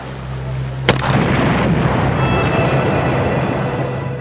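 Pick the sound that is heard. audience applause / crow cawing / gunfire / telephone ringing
gunfire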